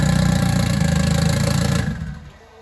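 A Vauxhall Astra VXR van engine runs loud and steady on a dyno with a rough, clattering mechanical edge, then drops away and fades toward the end.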